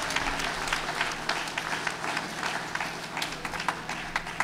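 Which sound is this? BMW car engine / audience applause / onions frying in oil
audience applause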